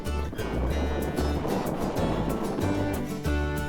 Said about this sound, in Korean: 하루에도 몇 번씩 표정을 바꾸는 겨울바다지만 오늘따라 파도가 심상치 않습니다